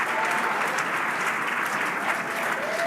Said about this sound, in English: What are we cheering for?